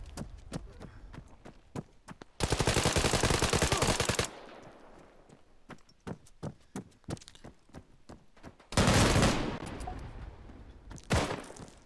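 Rapid bursts of M1A SOCOM 16 rifle fire in Arma 3, two long dense volleys with sharp single shots and footstep-like taps scattered between them, loud and close.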